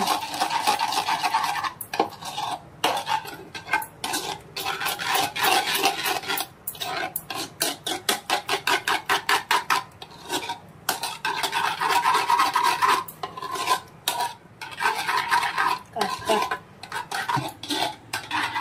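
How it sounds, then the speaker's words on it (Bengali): Sour yogurt curd being whisked briskly in a bowl for crispy chicken marinade, a loud steady run of rapid scraping, clinking strokes with brief pauses between bursts, close up and with no talking. "দইটা ভালো মতো আমরা একটু ফেটিয়ে নেব।"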